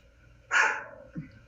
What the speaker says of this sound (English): you have to excuse my dog. He's barking in the background.